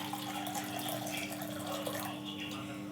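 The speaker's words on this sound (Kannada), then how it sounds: "ಸೊ ಒಂದು ಎಂಟಿ ಇದರಲ್ಲಿ ಈ ಬಿಸಿ ಬಿಸಿ ನೀರು ಹಾಕ್ಕೋಬೇಕು" Hot water pours into a container in a steady, continuous stream, close and moderately loud with no talking over it.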